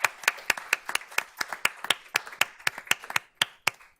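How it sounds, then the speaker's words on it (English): A small group of people claps for board members at a trustees meeting, with sharp, distinct hand claps in an uneven rhythm, close and fairly sparse, with no talking. "So let's give them a round of applause."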